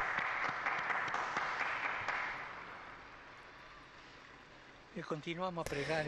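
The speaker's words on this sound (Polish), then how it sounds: "Proszę o oklaski dla nowych błogosławionych." A large outdoor crowd applauds the newly beatified during the papal Angelus, steady clapping that fades away, after which a voice begins speaking.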